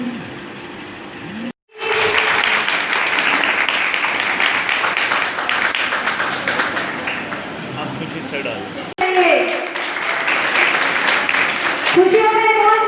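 An audience at a public gathering about women's political reservation claps in sustained waves of applause, broken by brief pauses. A speaker's voice is heard over and between the clapping.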